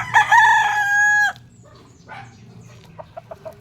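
Backyard breeder's rooster lets out one loud, close crow lasting over a second, followed by a few soft, scattered clucks and short calls.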